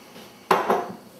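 A large stock pot set down or handled, giving two close, sharp metallic clanks a moment apart and then a brief ringing decay, with no talking.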